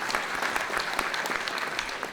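A crowd claps steadily, a dense patter of many hands at even volume throughout the short moment.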